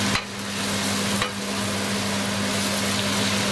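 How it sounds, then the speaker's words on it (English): Salted bacalao fish being stirred into a cooking pot for cassava croquettes, a steady close scraping and sizzling texture with a low steady hum underneath, no talking. "So now we can go ahead and add the fish. And of course, we're gonna give this a good stir."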